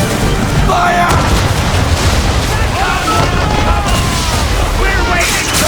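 Ship cannons firing a broadside at sea in Assassin's Creed 3, loud booming blasts over a rough wind-and-water wash, with shouted voices in between.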